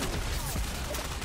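Rapid video game gunfire during a multiplayer melee round, a dense burst of shots mixed with game noise at moderate loudness, with a voice faintly underneath.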